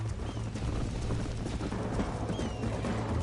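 Horse hooves clip-clopping in the video game Red Dead Redemption, a steady galloping rhythm of soft hoof beats heard faintly throughout, alone without speech.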